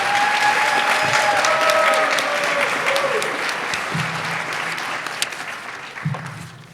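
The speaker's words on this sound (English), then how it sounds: "One big round of applause for Mila." A big round of applause from the audience at a ceremony, with dense clapping at full strength that slowly thins toward the end, overlapping a brief voice and some low tones.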